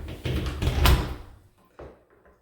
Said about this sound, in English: And just make sure it will close